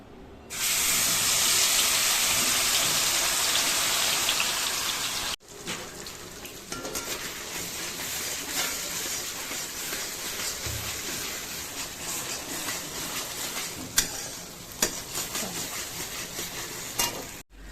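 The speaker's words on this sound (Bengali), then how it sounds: "পেঁয়াজ, আদা, রসুন সব একসঙ্গে বাটা আমি এই তেলের মধ্যেই দিয়ে দিচ্ছি" Onion, ginger and garlic paste hits hot oil with a loud, bright sizzle for about five seconds, then settles into a steadier frying crackle with occasional stirring scrapes, close by and with no talking.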